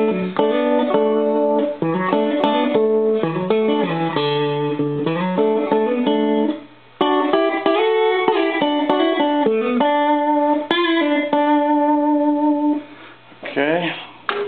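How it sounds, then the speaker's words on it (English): Clean electric guitar plugged directly into an amp with no pedal, playing sustained chords and melodic lines at a steady, loud level for most of the clip, with two short pauses. "here's the sound of the guitar going straight into the amp"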